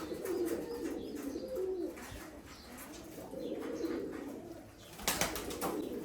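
Rajshahi Giribaz pigeons, a performing tumbler breed kept at home, coo in repeated low, throaty phrases, with a brief wing flap near the end, all fairly close and without talk.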